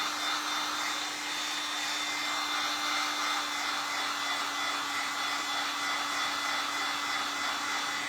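A heat gun blowing hot air onto WoodUbend decorative trim to soften it, a steady loud whooshing hum with a constant motor whine and no talking.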